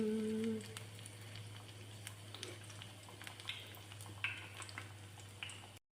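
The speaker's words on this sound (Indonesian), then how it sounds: "Sekarang lanjut, saya mau goreng tahu isinya ya teman-teman." Stuffed tofu deep-fries in hot oil, giving a steady soft sizzle with scattered crackles and pops under a low background hum, with no talk.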